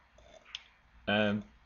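A single soft computer mouse click while a Joomla gallery plugin is being installed, quiet and close, followed shortly by a brief voice.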